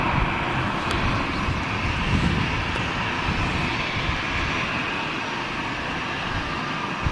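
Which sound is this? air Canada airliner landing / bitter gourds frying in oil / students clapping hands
air Canada airliner landing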